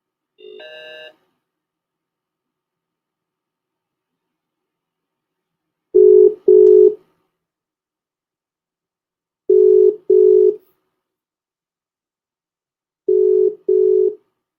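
Ringing tone of an incoming video call during an online webinar: a short beep, then three pairs of clear, moderately loud electronic tones repeating at even intervals with silence between them and no talking.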